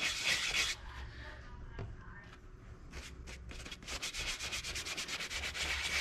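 Close, steady rubbing to distress paint on a wooden Easter picture frame, a continuous scratchy scrub that turns into quick repeated strokes toward the end, with no voices.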